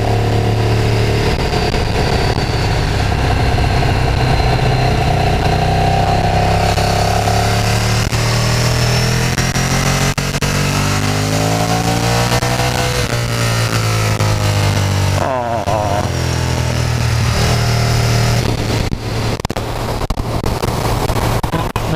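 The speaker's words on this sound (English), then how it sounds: "That was the first ride on the bike, and I'm very pleased with it." A Ducati Streetfighter track bike on its first ride, engine roaring loud and continuous with rising and falling revs through gear changes, a few sharp shifts and throttle blips midway.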